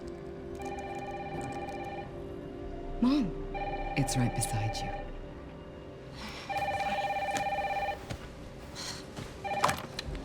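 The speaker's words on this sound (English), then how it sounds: "the phone rings." A telephone rings repeatedly in a scene from the Resident Evil Requiem video game, with bursts of ringing alternating with pauses, while a voice speaks over it.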